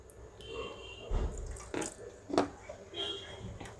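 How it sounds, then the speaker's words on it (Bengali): Tamarind water pours into sambar dal, a soft liquid trickle with a few splashy gurgles and drips over several seconds. The sound is close and fairly quiet, and there is no talk. "এর মধ্যে দেব আমি একটু তেঁতুলের জল"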